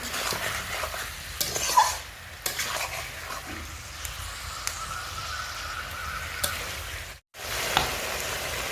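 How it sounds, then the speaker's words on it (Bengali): Country chicken pieces with whole garlic cloves being sautéed in a pan, a low continuous sizzle broken by spatula scrapes and stirring clatter, close and with no talking. "মাংস সময় নিয়ে খুব ভালো করে কষিয়ে নেব"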